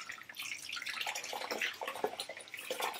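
Rice grains are washed by hand in water in a kitchen for Hyderabadi mutton biryani, with soft continuous sloshing, swishing and trickling, fairly quiet and close.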